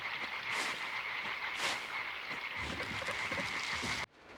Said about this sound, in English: the sound of frogs in the swamp,